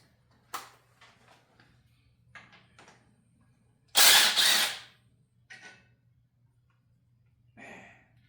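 A power tool backs out bolts while an engine is separated from its transmission, giving one loud, harsh burst of about a second midway, with scattered quieter clicks and knocks of sockets and parts around it.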